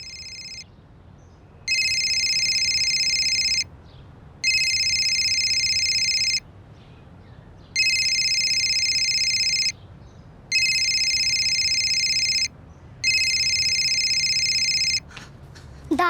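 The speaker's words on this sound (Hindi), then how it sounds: "मम्मी की फोन की रिंग तो अंदर से आ रही है।" A phone ringtone rings loudly in repeated electronic bursts of about two seconds, separated by short pauses, with no voices.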